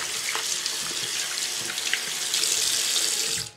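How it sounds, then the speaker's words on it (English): A bathroom sink tap runs a steady stream of hot water into the basin for handwashing, a continuous close hiss and splash that holds throughout and cuts off abruptly at the end. "turn on the sink, get some hot water, preferably"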